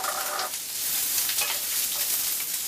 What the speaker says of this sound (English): I can saute the onions and start to bring out the flavor and the texture of the carrots, the potato, and the mushrooms